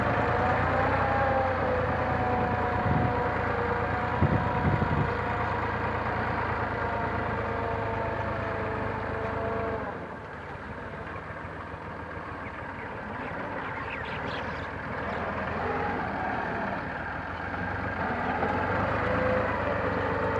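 A Massey Ferguson 360 tractor engine runs steadily at a constant mid-pitched drone, close and continuous throughout, with only a slight dip partway through and no speech.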